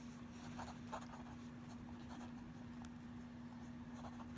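A Pelikan M400 fountain pen nib scratching softly across paper, very faint and close, with brief light strokes and pauses over a steady low hum.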